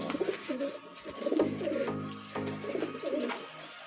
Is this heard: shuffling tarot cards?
no